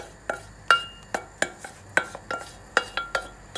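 A spoon clinks rhythmically against a pot while potatoes and yogurt are stirred, sharp metallic taps roughly every third of a second, close and clear with a faint ring.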